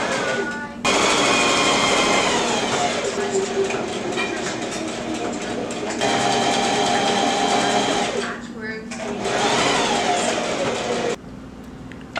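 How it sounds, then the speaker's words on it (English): A home sewing machine runs in long loud bursts, stitching around the sleeve edge of a jacket made from a blanket, with short pauses between runs and a brief stop near the end. "I have now sewn around this edge here, sewn all the way around for that"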